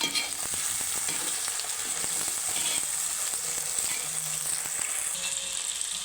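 Tomato rice ingredients with potato fry in a pan, a steady loud sizzle running throughout while a spoon stirs them with scattered scraping knocks.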